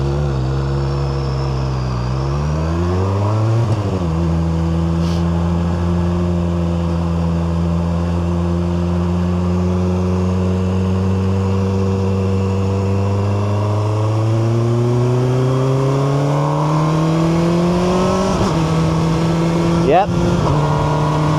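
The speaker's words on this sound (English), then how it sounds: "I do not see a reason to change this exhaust." A QJMotor SRK 921 RR motorcycle idles loudly up close with its stock exhaust, then the engine is revved several times, the pitch climbing and falling in long sweeps before settling back to a steady idle.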